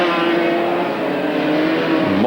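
A racing car in the 1988 Shell Oils Endurance Series at Lakeside holds a loud, steady engine drone close by, and the pitch drops sharply at the end as it slows for a corner.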